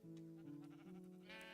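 Sheep bleat in a wool-farm video game, a steady wavering bleat held for about a second and a half, close and moderately loud, with no talk over it.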